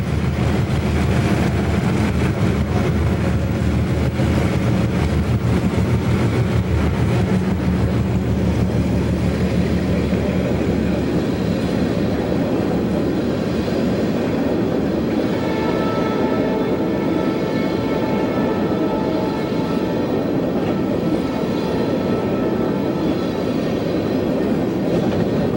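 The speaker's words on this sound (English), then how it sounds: "southbound MGA 2302 soon makes an appearance with an empty coal train from New Hampshire Public Service" Monongahela Railway locomotive MGA 2302 hauls a southbound empty coal train past, a loud, steady rumble of engine and rolling wagons that holds throughout with no voices.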